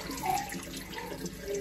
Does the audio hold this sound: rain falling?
no